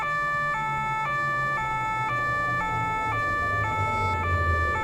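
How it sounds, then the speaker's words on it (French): A police car arrives with its siren wailing, a loud, steady two-tone alternating cycle repeating every half second or so over a low rumble of traffic, with no voices. "Sur ces entrefaites, arrive une voiture de police."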